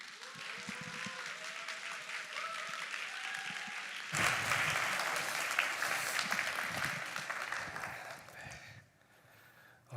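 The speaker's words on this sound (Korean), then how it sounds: "올라오실 때 뜨거운 박수로 환영하겠습니다" A church congregation at a Seattle downtown campus service applauds warmly to welcome a pastor, clapping swelling after a sung or spoken passage, holding strongly for several seconds, then fading out.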